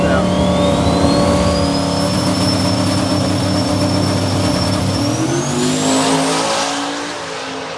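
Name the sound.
Buick drag race car launching down the strip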